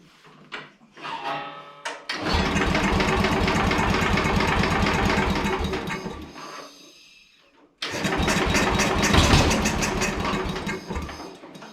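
A Sears Suburban SS15 garden tractor engine cranks, catches and runs with a loud, close, rattling roar, then dies after a few seconds and restarts just as loud.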